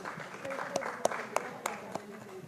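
Applause welcoming a guest at an ING-IABSE Karnataka Centre felicitation ceremony in India: steady, evenly spaced claps ring out in a hall over a low crowd murmur and some faint voices.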